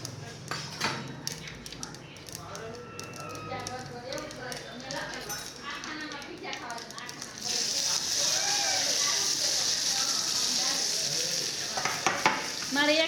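Food sizzles and fries in hot oil in a home kitchen, a steady crackling hiss that grows louder partway through, with voices talking over it and occasional stirring clatter.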